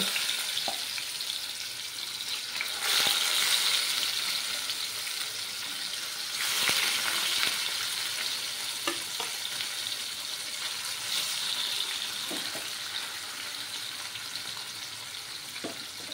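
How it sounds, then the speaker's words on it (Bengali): Fish pieces coated in salt and turmeric fry in oil in a pan over lowered heat, giving a steady sizzling crackle throughout with a few louder bursts and faint clinks, no voices. "এবার মাছগুলো ভেজে নেব"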